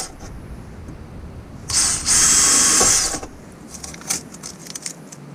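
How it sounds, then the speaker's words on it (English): A power drill boring a hole for a hood strut rivet on a Toyota Tacoma, one loud high whining burst of about a second and a half, followed by faint clicks and handling noises. "My drill is set up."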